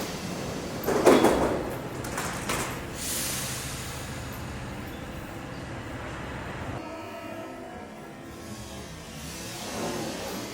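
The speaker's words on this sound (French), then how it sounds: "On a une fermeture de porte de métro." A metro train's doors slide shut with a brief pneumatic hiss and thump, followed by a steady low rumble of the carriage and station ambience.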